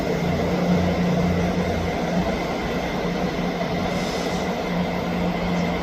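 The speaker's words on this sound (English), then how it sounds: "Arriving in now is the 11:43 Scotrail service from Edinburgh Waverley to Helensburgh Central" Scotrail train arriving at Edinburgh Haymarket station, a steady rumbling rail roar with a faint high squeal, moderately loud and continuous, no talk.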